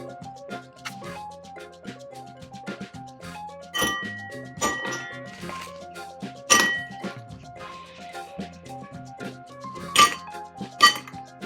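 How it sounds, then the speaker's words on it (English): About five or six ice cubes drop one by one into a glass for a mocktail, making bright, irregular clinks and clunks, a few sharper knocks standing out, close and with no talking. "Next we'll add in some ice."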